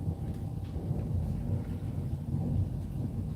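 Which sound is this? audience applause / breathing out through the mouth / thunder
thunder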